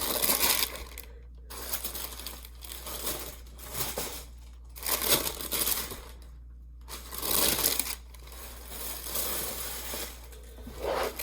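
Double-layer tissue paper crinkling and rustling as it is unwrapped from an Adidas Fear of God Athletics Los Angeles low-top sneaker box, in close, loud bursts separated by brief pauses.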